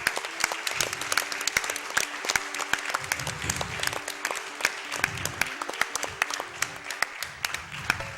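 Applause from a gaming-marathon audience at AGDQ 2016 after a Pokemon Yellow glitchless speedrun, steady clapping throughout with a few louder claps and faint voices mixed in.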